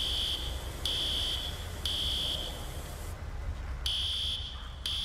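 A fire alarm in the EmergeNYC firefighting game sounds repeated shrill beeping pulses in a steady on-off pattern, loud against a low background rumble, with no talk.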